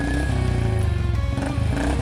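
Motorcycle engines at a bikers' rally with rock music, a continuous loud low roar with steady revving, mixed with music throughout.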